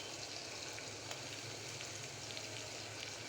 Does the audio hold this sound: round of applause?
no